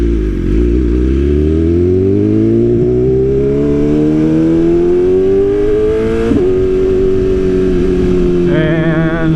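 A BMW S1000RR sport motorcycle rides along with a loud, steady engine note that climbs gradually in pitch as it accelerates, with a brief gear-change blip near the end and continuous wind rush.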